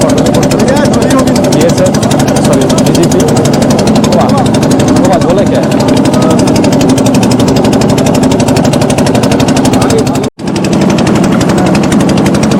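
Speedboat engines run steadily on a river near Mogalhat at the Bangladesh–India border, a loud continuous throbbing drone that fills the scene with a brief cutout near the end.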